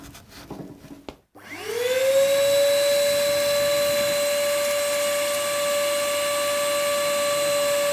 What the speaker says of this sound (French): nous utilisons pour cela un aspirateur à cendres